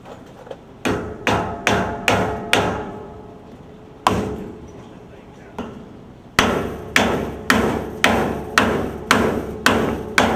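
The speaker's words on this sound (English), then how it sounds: "Take a hammer and a block." Sharp metallic hammer blows strike a block repeatedly while installing a hydraulic fan, first in a quick series, then a lone hit, then a steady run of evenly spaced strikes, loud and close.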